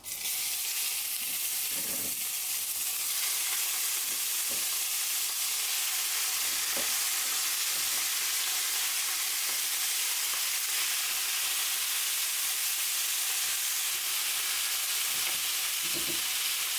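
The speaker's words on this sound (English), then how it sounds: "We're going to fry this off till it's nice and brown" Venison mince fries in hot oil in a pan, a loud, continuous hiss of sizzling with occasional soft scrapes and stirs as the meat is moved around.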